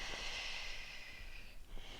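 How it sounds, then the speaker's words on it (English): A deliberately forceful exhale during a total-body strength workout, a steady airy rush of breath held for about two seconds, close and fairly quiet, with no talking. "Sounds like I'm being extra with that breath, but I promise it's useful for the core"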